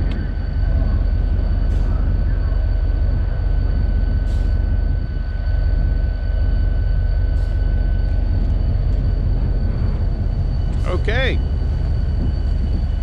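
A GP35 diesel locomotive on a scenic railroad rumbles steadily nearby, its deep engine drone continuous throughout, with a brief squealing tone near the end and a short spoken word at the start.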